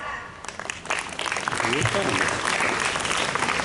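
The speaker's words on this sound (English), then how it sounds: "That deserves a round of applause." An audience at a school quiz club skit breaks into applause, clapping building from sparse to fuller while voices talk and cheer over it.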